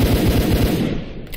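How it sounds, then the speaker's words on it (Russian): An upgraded gun in the shooter S.T.A.L.K.E.R. Cold Blood fires a fast, loud burst of rapid automatic shots for about a second, then the noise fades into a short tail. "Давайте сейчас постреляем, посмотрим."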